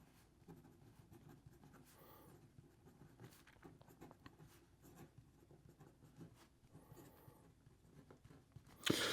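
A Benu Pixie fountain pen with a steel medium nib writes on paper, producing faint, close scratching strokes in short irregular bursts, with a louder knock right at the end.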